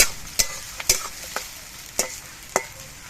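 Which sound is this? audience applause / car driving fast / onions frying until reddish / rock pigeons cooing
onions frying until reddish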